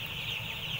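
Five-day-old chicks in a poultry house holding about 20,000 birds, a constant, fairly faint chorus of high-pitched peeping and chirping from many birds.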